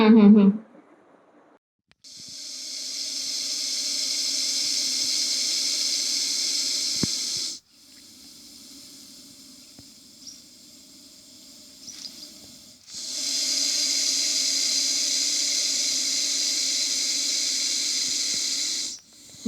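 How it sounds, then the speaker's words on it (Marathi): A rescued Russell's viper, recorded from about ten feet, hisses loudly and steadily in long, drawn-out blasts, each lasting several seconds, with quiet gaps for breath in between. Nobody is talking. "हा रेस्क्यू केलेला घोणस जंगलात सोडण्याच्या आधी माझ्या एका मित्रांनी साधारण दहा फुटावरनं रेकॉर्ड केलेला आवाज आहे"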